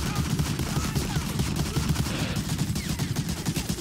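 Sustained gunfire from the video game Medal of Honor Allied Assault, with dense, rapid bursts of shots running continuously at steady loudness throughout.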